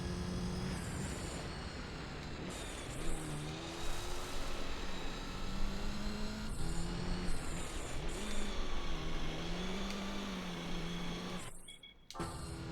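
Rally car engine in Gran Turismo 3, revving steadily through the run with rising and falling pitch as it shifts, loud and continuous, with a brief sudden drop near the end.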